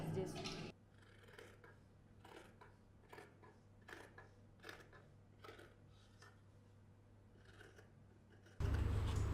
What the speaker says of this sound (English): Let's cut the details.